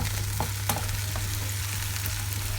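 Caramelised onions sizzle and crackle steadily in a hot pan, a dense even frying hiss with a few sharper pops, close and continuous with no talking.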